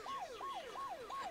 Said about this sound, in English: Pull over for flashing lights and sirens.